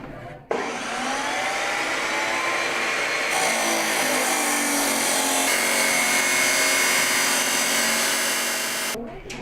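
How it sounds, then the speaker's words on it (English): A power tool cuts a row of kerf notches into square tubing for a young sculptors' project, giving a loud, continuous grinding whine that runs unbroken for several seconds and cuts off abruptly at the end. "we're cutting little notches in it so that it'll be easier to bend around the central structure"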